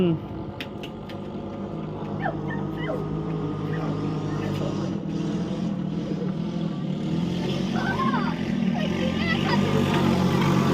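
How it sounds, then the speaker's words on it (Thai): A motorboat passes on a river where people are fishing for striped catfish, its engine drone steady and growing gradually louder, with faint voices in the background. "เรือมาอีกแล้วครับท่าน"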